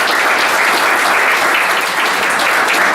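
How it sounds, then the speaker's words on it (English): A presentation audience breaks into loud, dense applause that holds steady throughout, close and unbroken. "So would we all give her a round of applause?"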